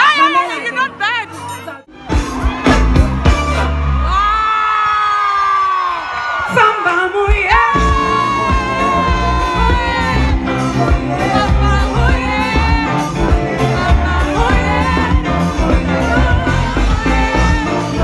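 A live audience screams, whoops and cheers at a concert at Pont de Val, loud and dense throughout, with a shrill close-up scream and shouting voices over music-like tones and crowd chatter.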